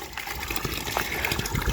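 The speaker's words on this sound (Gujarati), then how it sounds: "આપણે પાણી ચાલુ કરી દીધું છે" Water rushes steadily on a farm after the irrigation pump is switched on for a cumin field, a loud continuous gushing splash with no pauses.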